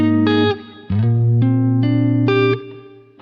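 Electric guitar bass line with a distinct slide up into the final low note, sustained and ringing, played alone with effects coloring the tone and no talking.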